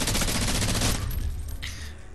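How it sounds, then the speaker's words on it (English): Rapid-fire pistol shooting in Fortnite Save the World, a pistol holding 60 shots: a dense, fast burst of loud shots for about a second, then fading into quieter trailing fire and game noise. "It's the minigun, but a pistol. Like, it has 60 shots in it."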